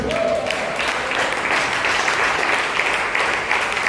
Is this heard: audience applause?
yes